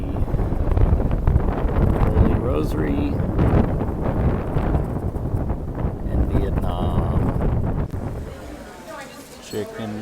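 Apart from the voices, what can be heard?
wind blowing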